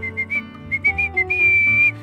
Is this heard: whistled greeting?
yes